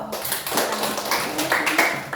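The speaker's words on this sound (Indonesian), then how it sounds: "Tepuk tangan untuk Fernando." Classroom applause from students, a short burst of scattered hand claps starting almost at once and continuing for about two seconds, fairly close and uneven in rhythm.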